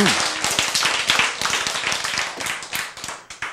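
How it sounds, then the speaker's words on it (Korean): Lecture audience clapping close by, a brisk run of sharp hand claps continuing for a few seconds without talk. "이거 박수 한, 번 칠만 하잖아요"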